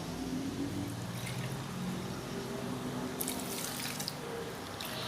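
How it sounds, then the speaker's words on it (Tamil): Water poured steadily from a vessel onto jaggery in a home kitchen while making sweet milk kozhukattai, a continuous close liquid stream with a few brighter splashes near the end. "இதில் 3 பங்கு தண்ணி ஊற்றிக்கலாம்."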